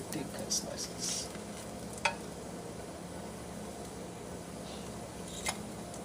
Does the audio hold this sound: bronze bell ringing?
no